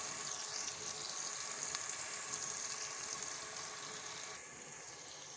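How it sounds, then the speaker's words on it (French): Onion frying in hot oil, a steady, faint hiss and crackle of sizzling that holds evenly throughout with no talk. "j'ai mis l'huile au feu, l'huile est chaude. Et j'ai mis oignon"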